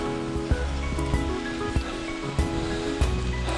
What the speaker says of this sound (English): You can probably hear the water now.